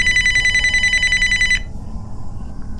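A telephone bell rings in a rapid trill for about a second and a half, then stops, leaving low background rumble.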